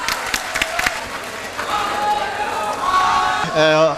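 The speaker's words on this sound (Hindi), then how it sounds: "जोरदार तालियों से स्वागत किया जाए हमारे चीफ गेस्ट का।" At a college fresher party, an audience claps to welcome the chief guest, a busy patter of hands under a voice and general crowd murmur, with a brief musical or electronic tone rising near the end.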